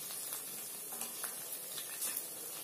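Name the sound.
crispy vadas frying in oil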